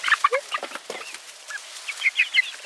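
Backyard chickens clucking in short bursts, several hens calling close by with bright, choppy clucks and a few higher squawks, no talking over them.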